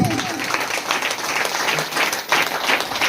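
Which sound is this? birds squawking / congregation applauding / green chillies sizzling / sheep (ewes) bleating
congregation applauding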